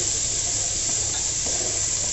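Ingredients fry with salt and turmeric in a pan for a small hilsa fish curry, giving a steady, even sizzling hiss that carries on unbroken without any talking.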